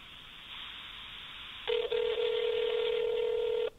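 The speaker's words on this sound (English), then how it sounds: "That's the first ring." A telephone rings on a call to a tip line: a phone-line ring tone sounds over the handset, a steady tone joined by a louder buzzing ring partway through, then ending.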